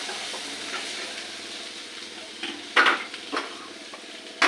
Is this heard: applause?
no